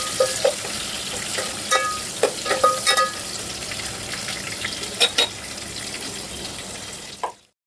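Onions fry in a pan with cardamom for Telugu bagara rice, a continuous close sizzle broken by clattering stirs and spoon taps that stops suddenly at the end.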